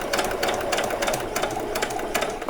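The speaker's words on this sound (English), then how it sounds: "I'm not doing a very fast stitch, I'm just going slow and moving it around" A sewing machine stitches doll saree fabric at a slow, steady pace, its motor whirring continuously with a light rattling texture and close, even loudness and no talk.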